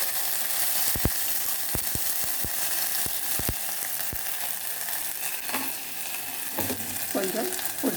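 Ginger-garlic paste with fennel frying in a pan: a steady, close sizzle runs throughout, broken by sharp clicks and scrapes of stirring.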